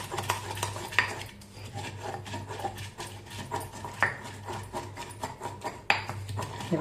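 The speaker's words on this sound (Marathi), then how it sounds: "हे बारीक होईपर्यंत असं छान फिरवून घ्यायचं सगळीकडून आणि ह्या बत्त्याने दोन्ही साईडनी फिरवायचं" A new stone mortar and pestle grinds garlic and fenugreek stems. The pestle keeps rubbing and scraping around the bowl, and hard clacks of stone on stone break through every so often, heard up close at a moderate level.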